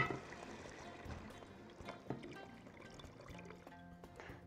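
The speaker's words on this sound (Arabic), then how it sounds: "البصل اهو داب، فنزود عليها الميه." Water is poured onto softened onions in a pot while cooking a chicken and carrot tagine, a faint, steady liquid pour and trickle ending in a sharp knock.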